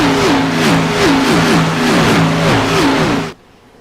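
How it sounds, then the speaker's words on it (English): Race car engines roar loudly in the iRacing video game, their pitch rising and falling again and again as the cars accelerate and shift through gears, until the sound cuts off abruptly near the end. "these engines are pretty loud"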